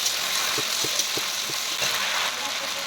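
Ginger and dried red chilli paste stir-fried in a pan for a pointed gourd ghonto, a steady broadband sizzle with soft periodic scraping knocks from stirring, close and even throughout with no talk.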